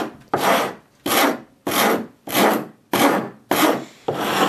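A Shinto Japanese saw file rasps across dry ash wood in six even strokes, each a loud, coarse scraping pass separated by short pauses, close up with no talk.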